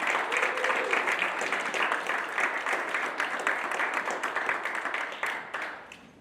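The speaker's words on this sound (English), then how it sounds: "Please put together a warm Old Westbury round of applause for our distinction." Warm audience applause fills a college event at SUNY Old Westbury honoring Dr. Andre Benito Mountain, a dense steady clapping from a crowd that slowly thins and fades toward the end.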